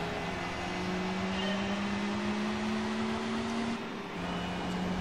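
A Honda NSX Type R in the racing game Gran Turismo 4 whines at high revs, its engine tone climbing steadily, dipping briefly, then holding a loud, continuous pitch with no talk.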